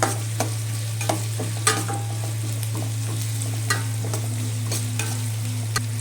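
Onion frying with cumin, cinnamon and cloves in a pan, a continuous sizzle under a steady low hum, punctuated by sharp spoon-against-pan stirring clicks.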